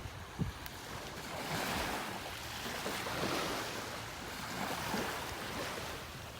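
Ocean waves wash onto a beach in North Naples, Florida, a faint, soft surf hiss that swells and recedes in gentle cycles, with light wind on the microphone and no talking.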